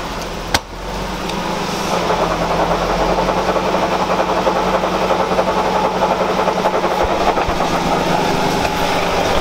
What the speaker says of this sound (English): Push in the clutch and try to put it in gear. And then let it out a little bit.